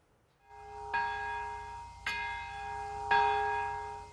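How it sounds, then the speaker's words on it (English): A large peace bell at the Nagasaki memorial ceremony for the atomic bombing's anniversary tolls three times at steady intervals, each deep strike ringing out with a long, shimmering hum that overlaps the next, with no voices. "Nagasaki fell into silent prayers as the peace bell tolled"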